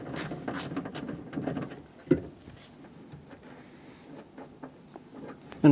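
A ratchet works loose and removes a nut on a 2007-2017 Ford Expedition rear exterior door handle, giving quick runs of close mechanical clicking with small taps, then a sharp knock near the end.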